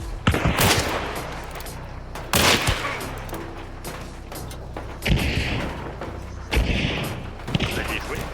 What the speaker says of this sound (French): Oh, on tire dessus.